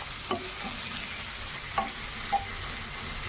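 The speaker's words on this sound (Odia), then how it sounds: "ଏଠି ପିଆଜ ବି ଭଜା ଚାଲିଛି" Onion frying in oil in a pan while a fish head chenchada is cooked: a constant crackling sizzle broken by a few sharp scrapes and clinks from stirring, with no talk.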